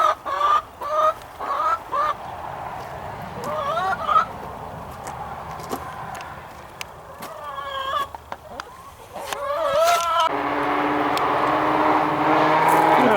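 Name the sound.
chickens clucking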